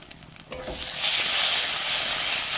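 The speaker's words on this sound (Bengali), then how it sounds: "হলুদটা দিয়ে এটা একটু নেড়ে নেব। দিয়ে দেবো লঙ্কা গুঁড়ো" Turmeric and chili powder hit hot oil in a pan for fulkopi fish curry, a few soft stirring knocks giving way to a loud, steady sizzle that swells and holds close by.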